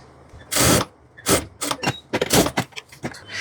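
A sewing machine stitches a pajama pocket in bursts of rapid mechanical whirring, several short runs close by, separated by brief pauses.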